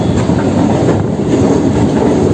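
A Kolkata Circular Rail local train runs along the line with a loud, constant rumble and rattle of carriages, heard from on board with no voices.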